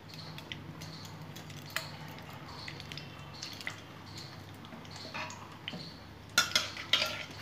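Whole cumin, cinnamon, clove and cardamom tempering frying in a pan, a faint soft sizzle under scattered light clinks and stirring taps, ending in a couple of louder utensil knocks.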